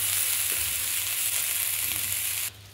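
Oggarane tempering sizzles in a hot pan beside a gas stove, a loud steady hiss that runs unbroken and then drops off sharply near the end.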